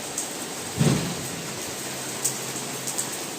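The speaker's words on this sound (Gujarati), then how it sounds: "તડકો બી છે ને વરસાદ બી આવી ગયો." Rain falls steadily in sunshine as a soft even hiss, with a low thud near the start and a few scattered drips, no voices.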